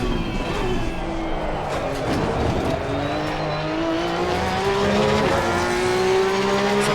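Porsche 992 Cup race car in a racing sim, engine revving and climbing through the gears, with tire squeal and skidding, the sound reflecting off a trackside wall, loud and continuous.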